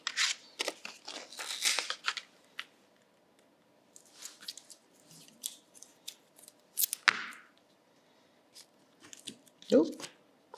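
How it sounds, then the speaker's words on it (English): Scissors snipping shapes out of leftover card for die-cutting and stamping, a series of sharp close cuts and rustles in bursts, with a person talking in between. "the other method that I tend to employ is to cut my shapes out first"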